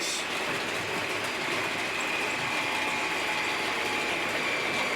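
A Bachmann Class 57 model diesel locomotive notching down drones with a dense mechanical rattle and a faint whine, steady throughout and close by.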